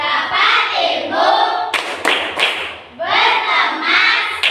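Indonesian classroom doing a rhythmic clapping ice-breaker: bursts of group hand claps and loud thumps, with a chanted group voice section between them.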